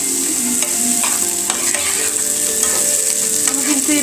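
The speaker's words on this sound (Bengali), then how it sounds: "আমি কিন্তু এইভাবে নেড়ে চেড়ে ভেজে নিচ্ছি পেঁয়াজ আর রসুন, কাঁচামরিচ একসাথে।" Onion, garlic and green chilli with a little turmeric fry in hot oil and are stirred in the pan, giving a steady close sizzle punctuated by regular scraping strokes of the spatula.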